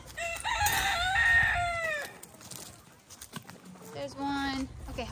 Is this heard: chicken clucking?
yes